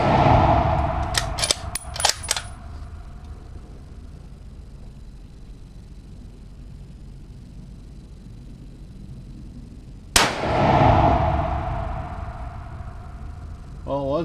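A Ruger Precision Rifle firing Hornady 140 A-MAX rounds outdoors, with a burst of sharp reports early on and one loud shot later that rings off into a decaying echo, heard from close by.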